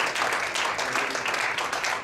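An audience applauds two colleagues at a website launch meeting, a brief steady patter of clapping heard from a little distance.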